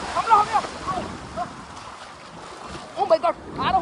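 Sea waves splash against a boat at sea, with bursts of water and wind buffeting the microphone, while excited voices shout over the surf.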